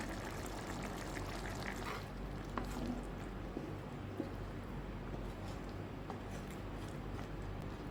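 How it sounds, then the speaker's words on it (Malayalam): Hot water used to rinse a mixer jar is poured into a pot of Kerala theeyal, a soft, quiet stream of liquid splashing steadily over low kitchen background noise. "മിക്സ് കഴുകിയ വെള്ളം കൂടെ ഒഴിച്ചു കൊടുക്കുകയാണ് ഞാൻ"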